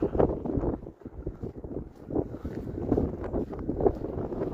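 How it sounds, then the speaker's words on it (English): Gusty wind buffets the microphone in a steady low rumble that swells and eases, with no voices, outdoors in snowy Toronto on a freezing evening. "Ooh, it's windy here."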